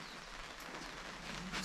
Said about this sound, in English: Only thing is raining today